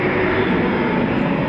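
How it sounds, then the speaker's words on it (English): Eurofighter Typhoon FGR4 jet at RAF Coningsby braking to a halt on the runway, a loud steady roar of engine and air rush held throughout with no break. "get the Typhoon to brake, to a halt."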